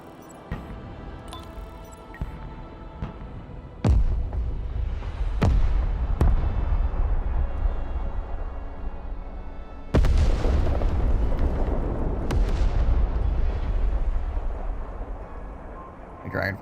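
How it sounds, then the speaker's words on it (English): Dragonfire mortars firing in the military strategy game Broken Arrow: sharp, heavy booms land one after another, each followed by rolling rumble, with a dense barrage of blasts near the middle and end. "The Dragonfire mortars are getting a bit close."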